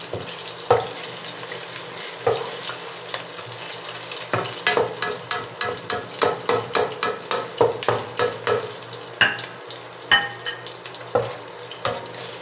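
Beef tapa frying in a pan for breakfast, a constant sizzle under a quick run of rhythmic scraping and stirring strokes, moderately close with no talk.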